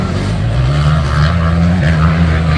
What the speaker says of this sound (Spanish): Tiene dificultad el motor de Franklin Noguera.